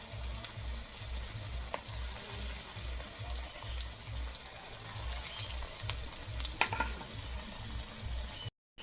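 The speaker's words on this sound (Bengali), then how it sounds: "তেল গরম হয়ে গেছে এক এক করে যে মোচার কোপ্তা তৈরি করেছি ওটা দিয়ে দেবো" Banana flower koftas bubble and sizzle in hot oil, a continuous close frying hiss with faint crackles throughout and a brief dropout near the end.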